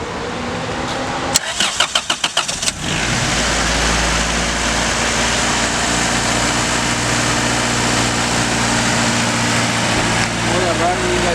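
A Honda Civic with upgraded suspension cranks over several times, fires up, and settles into a steady, loud idle up close, with some voices nearby.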